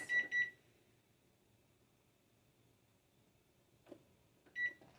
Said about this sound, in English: I'm going to set the timer now for 25 minutes.